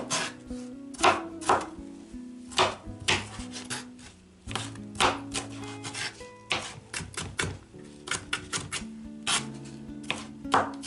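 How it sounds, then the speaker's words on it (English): Knife chopping ingredients for homemade wraps on a board, a brisk, uneven series of close, crisp thuds and cuts with short pauses between bursts. "Mostly I cut up my ingredients in nice little bits and pieces."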